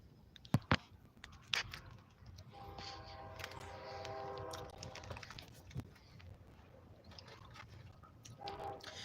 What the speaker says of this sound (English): we have a train coming on track 2.